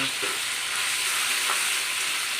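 Ground pork giniling fries in a pan with a bright, continuous hiss of sizzling fat and faint stirring scrapes, heard close up with no speech.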